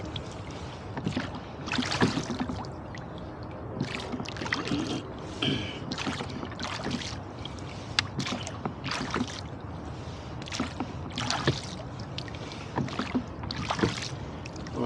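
Rhythmic oar strokes from a rowing boat on an estuary past marinas, splashing and knocking against water, repeating steadily every second or so over a low, continuous wash of moving water.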